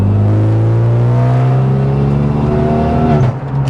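A modified Renault Megane RS track car's engine pulls steadily in third gear from inside the cabin, its droning hum rising smoothly in pitch under moderate acceleration around 2,500 rpm.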